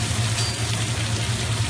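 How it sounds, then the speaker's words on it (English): A little white wine flambéing in a hot pan for red snapper piccata gives a steady, close, even sizzling hiss over a low hum, with no voices. "Now we're going to do a little flambe here."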